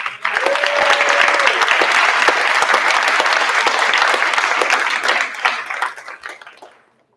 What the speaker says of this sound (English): Let's have one more round of applause.